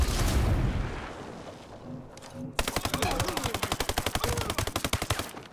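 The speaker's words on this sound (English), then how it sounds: "Oh, I thought that grenade was gonna get someone." Grenade explosion and gunfire in Ghost Recon Breakpoint: a loud roaring blast fades, then a rapid burst of automatic fire rattles close and loud for several seconds.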